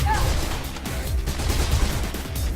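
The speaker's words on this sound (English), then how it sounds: "And which better way than with a machine gun?" Machine gun bursts hammer at servers in the Mirror's Edge video game, a loud, dense run of shots that continues steadily with no clear gaps, thick with low booms and crackling impacts.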